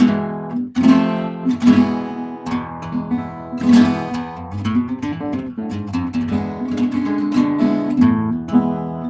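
Gypsy jazz flamenco-flavored music in dominant Phrygian tonality, with dense strummed and plucked guitar-like chords and melodic runs, played loud and continuous with no talking.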